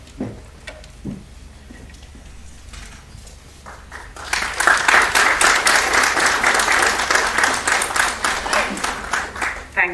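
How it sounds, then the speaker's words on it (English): Applause erupts at a prize distribution function after a few scattered claps and quiet, swelling into steady, loud crowd clapping that holds, with voices faintly beneath. "Thank you everyone for the wonderful clap."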